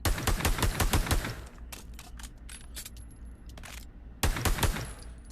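Rapid pistol gunfire in the VR shooter Pavlov, a loud burst of closely spaced shots, then scattered single shots, then another rapid burst near the end, with no talking.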